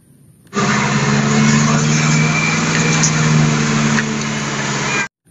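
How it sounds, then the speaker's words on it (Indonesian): A toy cement mixer truck plays a loud, steady motorized engine-like drone with a buzzing hum, starting abruptly, holding for about four and a half seconds, then cutting off sharply. "truk molen"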